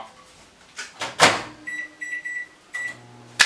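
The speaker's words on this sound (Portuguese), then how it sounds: "5 minutos na potência alta do meu micro-ondas." A microwave oven on high power heating a fresh ear of green corn still in its husk, its running hum broken by clicks and clunks and a string of short electronic beeps near the end, with no talking.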